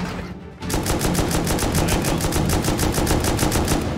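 Rapid automatic gunfire from the video game Rust, loud and close, erupting after a brief lull into a sustained, evenly pulsing stream of shots that continues without pause.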